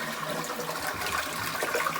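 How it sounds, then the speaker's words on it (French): Water runs steadily into a Japanese toilet cistern as it refills automatically through a tap on top, a continuous close trickling and gushing with no pauses. "Ça se remplit automatiquement. La chasse d'eau se remplit par là."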